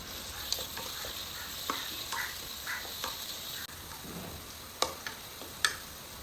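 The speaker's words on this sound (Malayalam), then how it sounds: "ഇനി ഇതിലേക്ക് ഉള്ളി ചേർക്കാം. ഇനി ഇത് നന്നായിട്ട് വഴണ്ട് വരണം." Onions sautéing with spices in Dalda ghee in a pot for cooker biriyani, a soft steady sizzle broken by repeated spoon scrapes and clicks of stirring, close up, with no talking.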